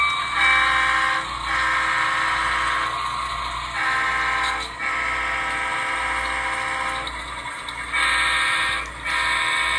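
Steady rumble and hum of a train slowing at a station, with tonal mechanical whine and brief dips as it comes to a halt.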